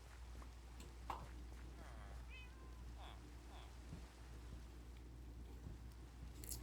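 Gentle rain falling in the Minecraft video game makes a soft, steady hiss throughout, with a few brief, thin mewing cries rising over it.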